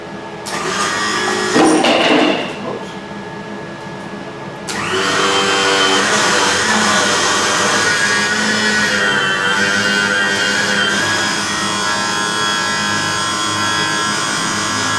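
A boat trim pump drives a homemade three-point power angle blade, giving a steady loud electric motor whine that briefly dips and then runs continuously with a strained hydraulic hum.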